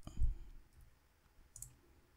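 Mouse clicks in a website page editor: a sharp click near the start and another about a second and a half later, close and crisp against quiet.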